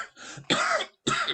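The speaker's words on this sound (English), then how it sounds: "I'm trying to shake this cough" A person at a board meeting gives a few harsh, close coughs in quick succession, each a short rough burst separated by brief pauses, with no talking over them.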